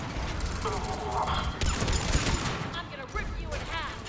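In Mass Effect 3 at Grissom Academy, a combat engineer's squad trades rapid gunfire in a dense, continuous fusillade, while a voice talks over it.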